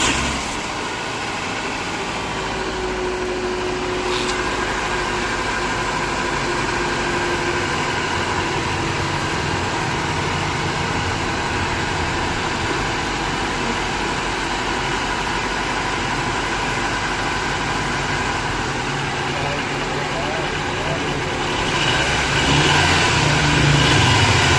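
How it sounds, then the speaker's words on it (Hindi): A 2007 Suzuki Cultus EFI engine runs steadily at idle, a continuous low rumble with a slight rise in intensity near the end. "गाड़ी हो रही है स्टार्ट"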